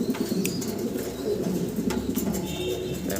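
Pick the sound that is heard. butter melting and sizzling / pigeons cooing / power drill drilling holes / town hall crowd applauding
pigeons cooing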